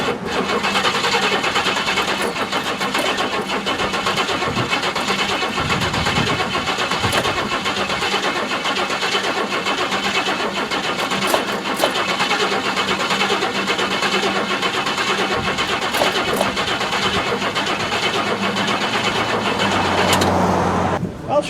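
A car engine cranks on and on through jumper cables without catching, a steady churning starter whir close by, pausing briefly near the end.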